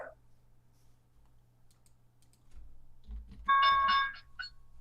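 After a quiet stretch with faint clicks, an electronic stock market opening bell rings with a bright, sustained tone for about a second, then a short final chime.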